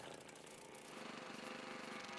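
A well drill boring through rock, a loud continuous grinding and hammering roar with dense mechanical rattle that holds steady throughout, no voices.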